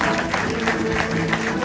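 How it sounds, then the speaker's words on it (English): A crowd of visitors claps and cheers at the Fiji village show of the Polynesian Cultural Center in Hawaii, a brief burst of noisy applause in an open setting with background music or voices mixed in. "give yourself a big round of applause,"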